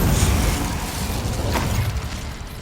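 Hogwarts Legacy's Incendio fire spell erupts as a rumbling, whooshing blaze with a brief sharper burst partway through, then fades slightly, with no talking.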